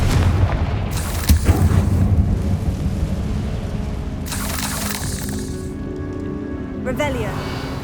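A Confringo spell explosion in the video game Hogwarts Legacy, a deep rumbling boom with bursts of crackling debris and hiss, followed by a bright shimmering magical tail; a voice speaks in the clip.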